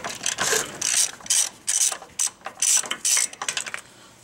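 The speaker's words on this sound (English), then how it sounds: "Now we're going to break it free with a 15 millimeter socket." A ratchet fitted with a 15 mm socket breaks a penetrant-soaked bolt loose on a 1998 Chevrolet Tahoe front suspension, giving a loud, close run of rapid clicking bursts in uneven pulses with no talking.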